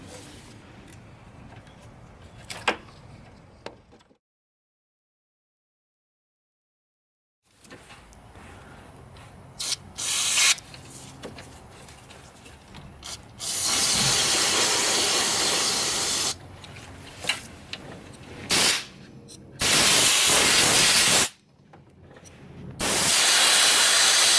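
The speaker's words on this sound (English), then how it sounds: "I'm just going to open up that connector and clean it out with some brake clean." Brake cleaner is sprayed into an opened electrical connector on a Ford Contour, in several loud, sustained hissing bursts of a few seconds each, broken up by short clicks, handling noise and a stretch of near silence.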